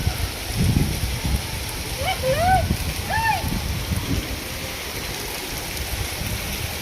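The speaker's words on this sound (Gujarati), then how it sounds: "ધીમો ધીમો વરસાદ આવે છે" Light rain falls with a soft, steady patter throughout, while brief voices and a few chirpy sounds rise in the middle.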